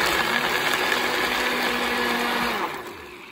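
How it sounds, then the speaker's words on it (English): Blender crushing ice for a coffee shake, a loud continuous whirring motor grind close by that holds steady for a few seconds and then eases slightly. "I'm gonna blend it up for like 20 seconds."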